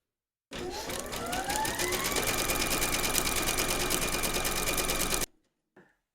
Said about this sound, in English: make sure that you've got your thread colour for that loaded into your machine, and then stitch round number 5